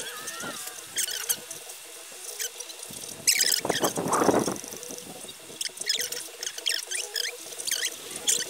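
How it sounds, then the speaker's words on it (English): Wet oil paint is brushed onto canvas in the style of Bob Ross, producing soft, close scratchy and squishy strokes in irregular short bursts. "Wow, his paint sounds so wet."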